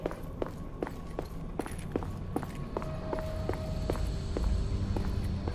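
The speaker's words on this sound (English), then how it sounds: "only sound you hear is your footsteps" Footsteps echo through an underground section in The Order: 1886, a steady walking rhythm of distinct sharp steps over a quiet low rumble, close and alone without speech.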